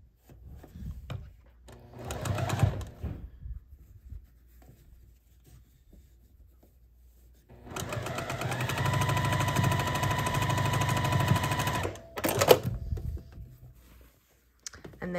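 Sewing machine stitching a churn dash quilt block: a steady mechanical run of about four seconds, with brief handling sounds before and after in an otherwise quiet room.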